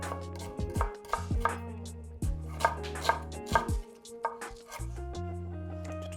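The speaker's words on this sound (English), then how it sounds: "So, a chili con carne is always onions and peppers. That's always the kind of base. So, roughly chop these." A knife roughly chopping onions and peppers for a brisket chili con carne base, a steady run of close, crisp board thuds with brief pauses between bursts.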